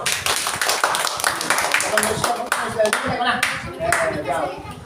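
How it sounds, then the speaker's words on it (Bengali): Students in a classroom clap their hands in a dense, steady burst of overlapping claps lasting several seconds, with voices heard underneath. "হাততালি দাও"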